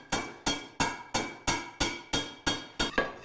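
Cold-pass hammering along the rim of a hand-forged skillet: nine crisp, ringing metal strikes in a steady, even rhythm, close and moderately loud, each blow fading quickly before the next, with no speech.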